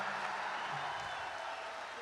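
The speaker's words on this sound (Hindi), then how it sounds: "तालियां जोरदार बजाओ एक बार" An audience at a comedy show applauds, a steady, dense wash of clapping that carries evenly through the whole moment at moderate, slightly distant volume.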